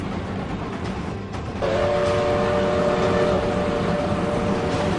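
A steady rumbling train, then a sustained horn blast starts partway through and holds over the continuous roar.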